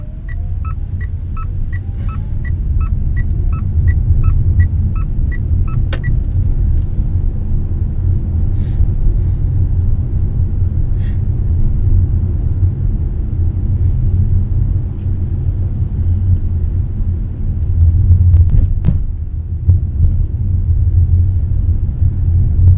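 Mitsubishi Outlander PHEV cruising on a highway and country roads, a steady loud low road and drivetrain rumble continuing throughout with faint intermittent ticking chimes early on and a brief swell near the end.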